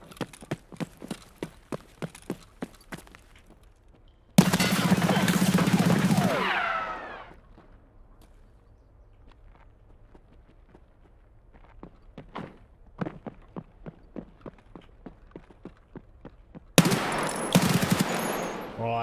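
Video game gunfire in repeated bursts of sharp, distinct shots, rhythmic and fairly close, split by two loud stretches of heavier noise and quieter gaps.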